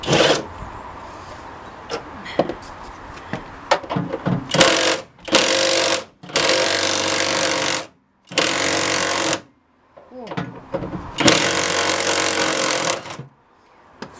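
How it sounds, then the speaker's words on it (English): A power tool works bolts out of a campervan's single seat base during a swivel-seat fitting, rattling in several loud, sustained bursts separated by short pauses, close up and with no talking. "first job, getting the bolts out"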